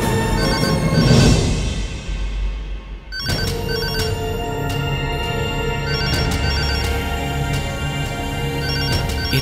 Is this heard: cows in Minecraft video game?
no